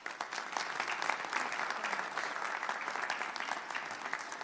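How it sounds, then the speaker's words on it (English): Audience applause welcoming President Marty Meehan at a higher education report announcement, a steady, dense wash of clapping from a large crowd that holds at an even level throughout. "so please give a round of applause."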